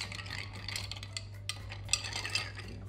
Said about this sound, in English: Another stir.